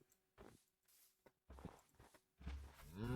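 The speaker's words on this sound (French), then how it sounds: "Ah ouais, il y a des vaches." Cows mooing in Minecraft, a few low calls mixed with soft footstep-like thuds, then a longer moo near the end, fairly quiet.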